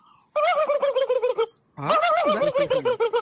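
A human voice imitates a wild turkey call, giving two loud, close bursts of rapid, warbling gobble-like yelps separated by a short pause.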